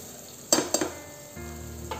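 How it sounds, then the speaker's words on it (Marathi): Masala cooking with fried onions added for soya chunk biryani, stirred in a pan: two sharp scraping stir strokes over a low steady sizzle, close and fairly quiet, with no talking. "येथे आपण तळून घेतलेला कांदा पण घालून घेऊ, हे पण छान परतून घेऊ"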